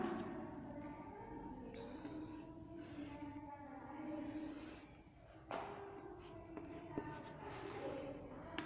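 During a chemistry lecture, chalk or marker strokes scratch across a board in short, irregular bursts, faint and close under a low room hum and occasional speech.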